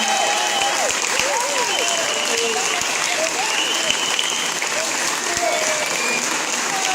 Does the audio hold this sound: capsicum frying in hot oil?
no